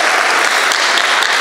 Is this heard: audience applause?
yes